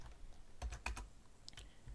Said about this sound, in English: I hate programming with a mechanical keyboard.